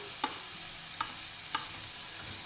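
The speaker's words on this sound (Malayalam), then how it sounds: "നന്നായിട്ട് മിക്സ് ചെയ്യാം. നന്നായി ഒന്ന് വഴറ്റിയെടുക്കണം." Onion, tomato and green chilli stir-fried in a pan for kothu idiyappam, a soft continuous sizzle broken by three distinct scraping strokes of the spatula, evenly spaced and close.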